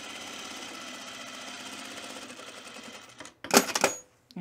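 A sewing machine bastes a puffer vest along its bottom edge, stitching in a fast, even whir for about three seconds before stopping, followed by a couple of brief handling rustles close by.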